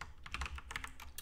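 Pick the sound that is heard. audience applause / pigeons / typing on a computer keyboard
typing on a computer keyboard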